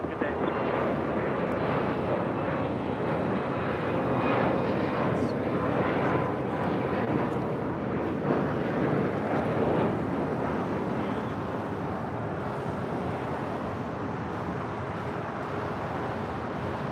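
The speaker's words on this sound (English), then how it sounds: "Next arrival on 25 left, China Airlines Cargo Flight 5138 coming in from Taipei and a 777 freighter" A China Airlines Cargo Boeing 777 freighter arriving from Taipei onto runway 25 left at LAX, heard as a steady, loud broadband jet roar that holds throughout with little change.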